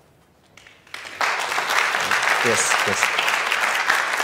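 An audience at a Middle East Report event applauds a cast, starting quiet, then building into steady sustained clapping, with a short spoken word breaking in near the middle.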